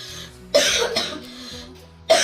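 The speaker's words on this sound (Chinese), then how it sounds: "那种咳嗽就是咳不出来，里面有一点痰，但是拼命的咳都咳不出来" A young child gives a few loud, wet coughs with phlegm, separated by pauses, close by, with no one talking.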